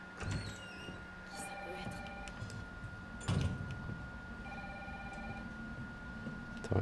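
A telephone rings in Resident Evil 3, its electronic trill sounding in two short bursts over a droning game ambience, with a loud thump between the rings.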